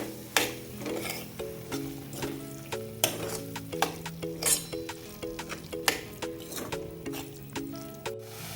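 Boiled moth beans are stirred into sizzling masala in a pan, with a steady run of spoon scrapes and light clinks over a soft sizzle, and background music playing throughout.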